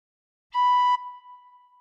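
A single gentle tin whistle note played with all holes open, one clean steady tone that swells briefly, then holds softer and thinner as it trails off, alone and close.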